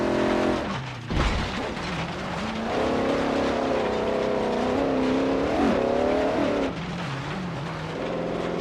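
A 1972 Mercedes-Benz 300 SEL racing uphill in Forza Horizon 3, its engine droning loud and steady with rising and falling pitch as it accelerates, a brief dip near the start, no talk.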